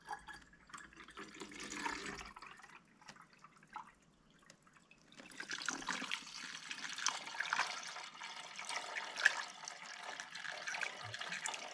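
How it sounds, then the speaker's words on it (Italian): Coolant mixed half and half with distilled water is poured into a car's coolant reservoir during a warranty repair at a Kia workshop, giving a close trickling, gurgling flow that starts faintly, pauses, then runs steadily. "Ora ne andiamo giusto ad aggiungere per riempire la vaschetta."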